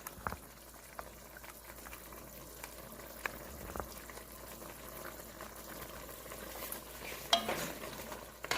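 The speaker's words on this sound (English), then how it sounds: "let's give it a stir" Lamb stew is stirred in a pot, a faint, quiet bubbling simmer with soft scraping and occasional light knocks of a spoon against the pot, without talking.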